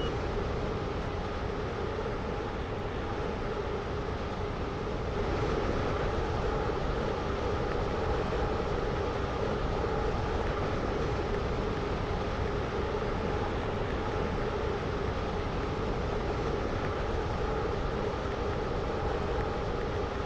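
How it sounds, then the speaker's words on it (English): A steady, loud rumble of a Class 360 electric train in motion on an airport terminal loop, constant droning hum with rail noise throughout and no voices. "This train is now approaching Airport Terminal 1."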